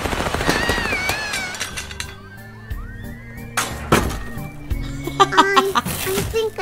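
A burst of rapid gunfire from the video game Little Misfortune, sharp cracks and thuds scattered among game music and sound effects, with a voice speaking in the background.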